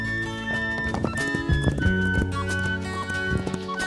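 Horses in a video game on a desert island, with steady clip-clop hoofbeats and a whinny or neigh, loud and close against layered game music and effects, no talking.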